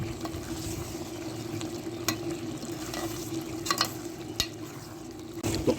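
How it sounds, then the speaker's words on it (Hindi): Chicken and potatoes frying in a pan over a turned-up flame, with a continuous close sizzle and occasional scraping stirs, no speech. "अब आलू और चिकन को अच्छी तरह से भून लेंगे।"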